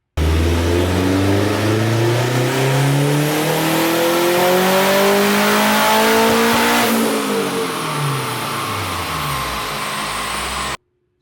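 Turbocharged K24-swapped Honda Civic Si on a dyno, engine revving hard in one continuous loud pull with rising harmonics climbing to high RPM, then backing off and falling away before cutting to silence.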